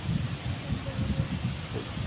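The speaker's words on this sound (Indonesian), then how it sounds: "Hujan bercampur angin ya teh." Strong wind mixed with rain roars steadily over an outdoor cooking spot in nature, a dense, constant rushing noise with gusty low rumbles that stays loud throughout.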